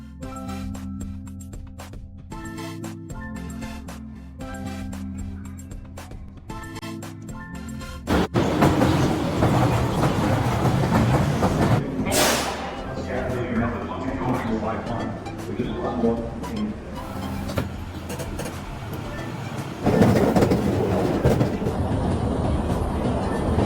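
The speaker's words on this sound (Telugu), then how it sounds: "ఇప్పుడే దిగాను ట్రైన్." A PATH commuter train from New Jersey to downtown New York rumbles loudly with rhythmic rail clatter and a brief screeching burst midway, while people talk over it throughout.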